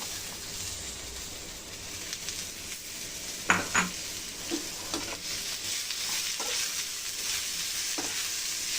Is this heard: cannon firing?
no